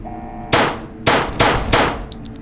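Four loud gunshots in Fallout New Vegas, sharp close blasts in quick irregular succession, each with a short decaying tail, with faint game ambience and metallic pings between them.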